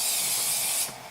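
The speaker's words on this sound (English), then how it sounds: "Spray my pan here." Cooking spray sprayed onto a cake pan, one continuous close, loud hiss lasting about a second before it cuts off.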